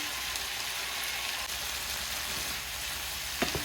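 Bell pepper fries in a pan for a Thai-style meat and rice dish, giving a steady, even sizzle with soft crackles and a few small pops, close and constant throughout, with no talking.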